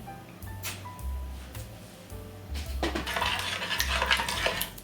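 Metal utensil clinks and scrapes inside a bowl of ground-meat stuffing for stuffed peppers, turning into rapid, busy whisking toward the end, close and fairly quiet.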